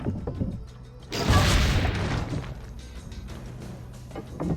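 A single heavy cannon blast in Assassin's Creed Brotherhood, a loud booming report with a long rumbling decay that fades into quieter ambient game background.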